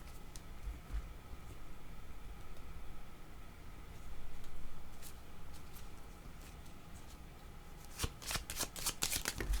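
Tarot cards shuffled by hand during a reading, a soft continuous papery riffle and rustle that grows busier and crisper toward the end with quick snapping flicks, fairly quiet and alone.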